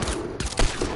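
Gunshots in a video game, a quick run of loud overlapping shots with uneven spacing over a short stretch.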